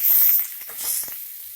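Tomato and freshly grated coconut sizzling in a pan on a gas stove, giving a steady close hiss that swells twice and softens between, with no one talking.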